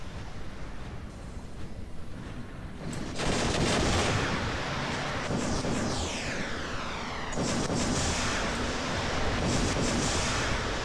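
Robots exchange gunfire in the video game War Robots. A dense, continuous rattle of rapid shots runs for about ten seconds, growing heavier partway through, with sweeping mechanical tones under the barrage.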